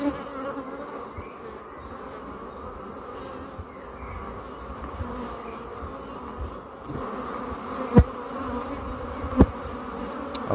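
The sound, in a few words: honeybees flying up from a tapped hive frame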